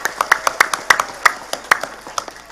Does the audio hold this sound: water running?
no